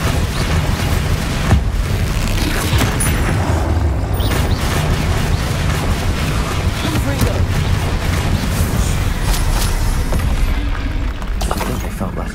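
Explosions from the Bombarda spell in Hogwarts Legacy boom and crash loudly in a dense, noisy rumble over a steady low background, with a voice speaking at times.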